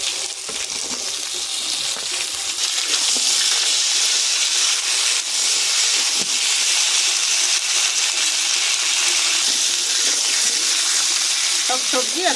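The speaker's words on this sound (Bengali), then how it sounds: "ওর মধ্যে শিম আর বিনস দিয়ে আর একটু ভেজে নেব একসঙ্গে।" Potatoes frying with flat beans and beans in hot oil, a loud continuous sizzle throughout with faint stirring scrapes underneath and no talk.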